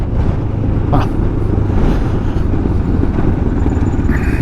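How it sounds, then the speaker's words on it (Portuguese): A Moto Morini X-Cape 700 (2025) motorcycle engine hums steadily while riding, mixed with heavy wind rush, with a few passing vehicle sounds in the background. "Um motor nada morto, um motor que até desenvolve bem em autoestrada"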